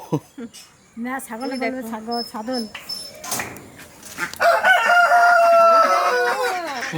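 Chickens cluck and a rooster crows loudly nearby, mixed with human voices and other farmyard noise.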